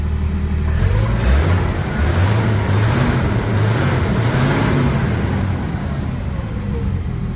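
An old truck engine revs up and then drops back to a steady idle, loud and close, its low rumble rising and falling over several seconds.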